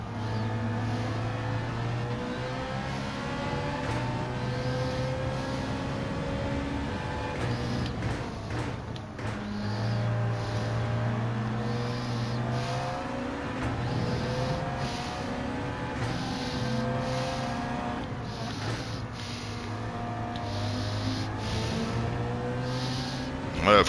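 Racing car engines from a Ferrari and a Volkswagen Beetle in Gran Turismo 7 drone and whine steadily, with shifting pitches as the cars shift gears and jostle together throughout.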